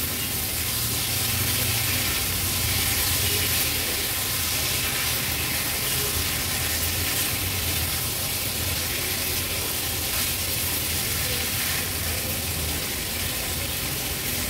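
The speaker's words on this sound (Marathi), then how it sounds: "भाजी व्यवस्थित आपण परतून घेतली आहे।" Cauliflower florets and peas stir-fry in oil for an Agri-Koli style vegetable dish, giving a steady, close, unbroken sizzle with a bright hiss that holds evenly throughout, with no voices.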